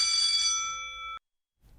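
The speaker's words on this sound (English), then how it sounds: "There's the bell again" A single electric school bell rings steadily for about a second, loud and bright, then cuts off abruptly into silence.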